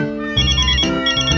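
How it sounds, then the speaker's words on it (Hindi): Mobile phone ringtone chiming loudly and close, a bright melodic electronic tune with shifting tones that plays alone for a moment. "अरे अंजलि का फोन"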